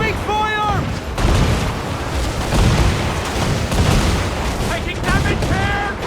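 Ship cannons fire in the video game Assassin's Creed 4 Black Flag, heavy booming blasts rolling over one another during a naval battle, loud and close, with shouted voices breaking in at the start and end.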